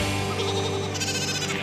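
Cartoon ski sheep bleating, a loud close wavering baa that rises into a second brighter bleat, alone without talk.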